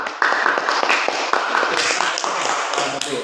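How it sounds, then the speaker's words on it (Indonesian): A class claps for a student, quick, evenly spaced hand claps in a steady rhythm, close and fairly loud, with voices mixed in. "Tepuk tangan dulu untuk dia."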